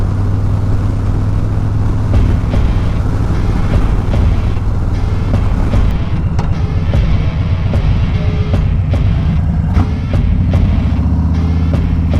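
Wind roars against a moving motorcycle alongside a loud, steady engine drone, a constant close buffeting rumble with no speech.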